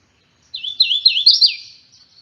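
A hooded warbler sings a single clear, bright song of several quick rising and falling slurred notes ending in an emphatic phrase, close and alone in silence.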